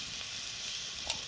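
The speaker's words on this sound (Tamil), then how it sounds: "இது வந்து நல்லா நம்ம வதக்கிக்கலாம்." Vegetables such as beans, tomato and cauliflower sauté in a pan, a brief, even hiss of sizzling with one small clatter near the end, moderately quiet and free of speech.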